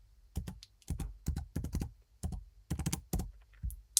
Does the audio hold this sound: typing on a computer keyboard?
yes